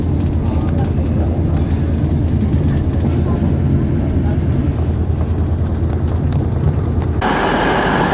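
A steady, loud rumble of a train rolling along the rails into Edinburgh, with a sharp change in tone near the end.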